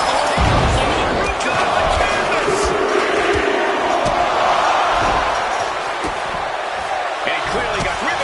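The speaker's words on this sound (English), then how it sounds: "And listen to this capacity crowd." A capacity crowd at a WWE wrestling arena roars steadily throughout, a loud continuous wall of cheering with scattered sharp impacts, while a commentator talks over it.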